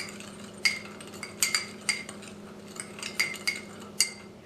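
Utensil mixing garlic powder and onion powder in a bowl, a series of sharp metallic clinks and scrapes against the bowl in an uneven rhythm, close and fairly quiet with no talking.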